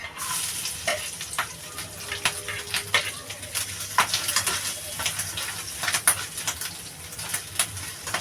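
Grated coconut sizzles in hot oil with black cumin in a pan for Bengali-style samosa filling, a steady frying hiss broken by frequent sharp scrapes and clinks of a spatula stirring against the pan.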